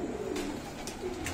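A pigeon coos softly in a bird-keeping setting, a short, low, throaty coo lasting just over a second, close by with faint background noise.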